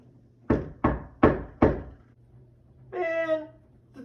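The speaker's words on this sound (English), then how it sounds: "the door always knocks when I start typing lessons" Four firm, evenly spaced knocks on a door ring out close and loud, followed by a brief tonal, voice-like sound.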